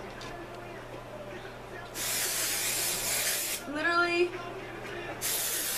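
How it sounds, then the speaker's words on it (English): Dry shampoo sprayed onto hair during a curling routine with a straightener: two bursts of broad aerosol hiss from a nearby can, separated by a short pause, with someone talking briefly between them. "First thing I'm gonna spray is the dry shampoo"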